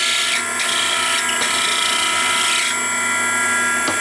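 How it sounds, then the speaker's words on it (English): A case trimmer running as it cuts 30-06 rifle brass, a loud steady whirring, grinding mechanical noise with slight changes in pitch as the cutter engages, alone without talk. "That has trimmed the brass."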